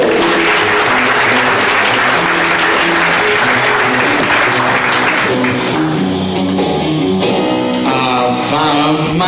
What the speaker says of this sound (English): Bring them on now with a round of applause on stage.